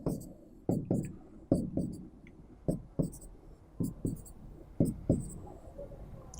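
Chalk or marker strokes on a classroom board as a chemical structure is drawn during a chemistry lecture: a run of sharp, close taps and short scrapes at an irregular pace over a steady low room hum.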